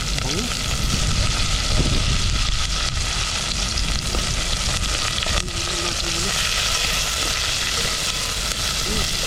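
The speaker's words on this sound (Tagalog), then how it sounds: "Golden brown lang natin ito mga toto, yung mga pang-aroma natin" Aromatics dropped into a smoking-hot pan fry with a loud, steady sizzle and occasional stirring scrapes throughout, with a voice talking faintly underneath.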